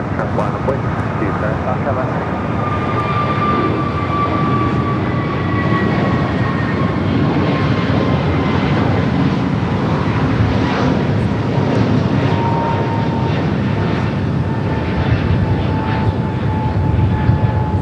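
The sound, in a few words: Frontier Airlines flight from Las Vegas at LAX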